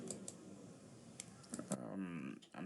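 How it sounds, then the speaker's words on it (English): Quiet clicks of keys being tapped on a tablet keyboard while entering census data, irregular and close, with a voice talking over the last second. "I'm typing Idris."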